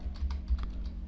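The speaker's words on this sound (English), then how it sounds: "So I'll just type" Keys clatter on a computer keyboard in a short quick burst of close clicks with no one talking.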